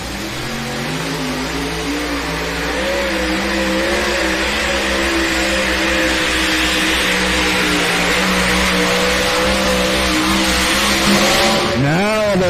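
A 1941 Dodge pulling truck roars at full throttle during a truck and tractor pull in Bowling Green, Ohio, a loud, sustained engine howl climbing in pitch for about twelve seconds before a sharp rev at the end.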